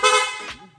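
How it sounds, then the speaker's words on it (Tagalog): An aftermarket loud horn fitted to a Yamaha NMAX 155 scooter gives one short, harsh, brassy honk up close, lasting about half a second before cutting off. "Ito naman po yung loud horn."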